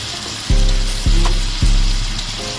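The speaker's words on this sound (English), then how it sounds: "You see the salmon cake that's sizzling?" A salmon patty fries in a small pan on a hot plate, with a steady crackling sizzle and three sharp thumps from the pan being handled, close and fairly loud.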